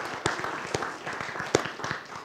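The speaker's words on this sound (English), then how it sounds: "A big round of applause for Shabir." Applause at an awards ceremony for MPs, scattered and thin, with a few sharper individual claps standing out over a soft murmur of hands.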